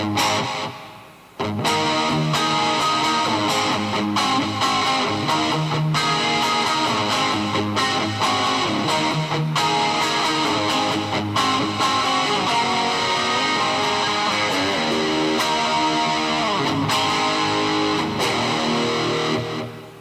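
An electric guitar rings through a dynamic delay effect, its notes and chords trailing into repeating echoes, loud and continuous with a few brief gaps, and no talking.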